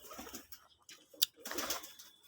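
Pakistani Giribaj pigeons, including nesting birds with squabs, coo close at hand amid short rustling bursts and a sharp click, the low calls coming in uneven snatches.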